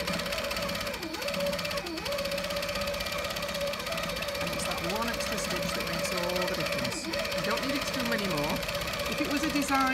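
A Handi Quilter longarm quilting machine runs with stitch regulation, producing a steady, close mechanical hum and rapid needle chatter with no break, while a person talks over it.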